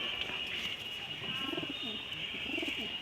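Several pigeons coo in a loft, repeated low rolling calls rising and falling close by over a constant high background hiss.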